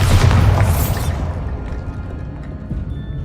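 Bombarda blasting spell explosion in the video game Hogwarts Legacy, one loud close boom with crashing debris that rolls off into a rumbling tail and a faint clatter.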